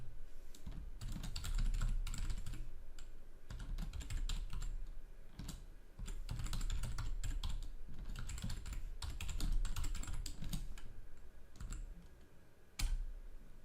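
Someone types a Linux command on a computer keyboard, quiet key clicks falling in quick bursts separated by short pauses, close and alone.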